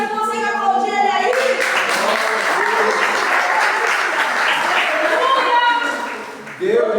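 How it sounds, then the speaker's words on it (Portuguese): A church congregation breaks into sustained applause, a dense steady roar of clapping lasting several seconds, with a voice and music heard at the start and end. "Você consegue aplaudir ele aí?"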